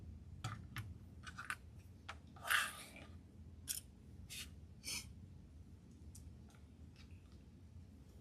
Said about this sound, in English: Cut some fray off the inside of this one because it's sticking out a bit.